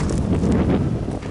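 Wind gusting across a microphone beside a John Deere 9600 combine harvester on a farm, a steady rumbling buffet with no other clear sounds.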